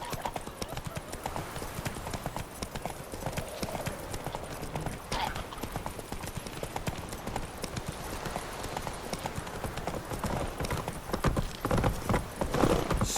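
Hooves of Roach, a horse in The Witcher 3, pound in a fast, continuous galloping clip-clop that stays loud and close, with a brief whinny toward the end.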